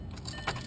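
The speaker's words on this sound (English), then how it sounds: "I'm just going to turn this key into the standard accessory or on position" A car's ignition key turns to the accessory position: a faint metallic jingle of keys, then a sharp click right at the end, close and quiet.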